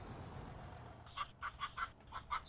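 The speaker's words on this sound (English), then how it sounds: "Let's go hang out with our chickens." Chickens in the video game Farming Simulator 25 let out a quick run of about six faint, short clucking calls after a brief quiet stretch.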